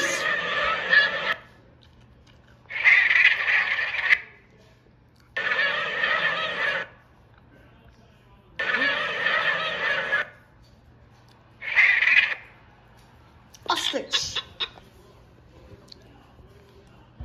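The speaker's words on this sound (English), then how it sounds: "Geese." Geese honking from a sound app: five loud, evenly spaced bursts of harsh nasal honks with brief silences between them, ending in a few scattered clicks and rustles.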